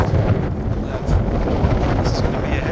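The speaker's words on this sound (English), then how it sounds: "And it's really windy right now. Calm down, wind." Strong wind roars and buffets against the microphone in uneven gusts, a loud rumbling rush that swells and fades.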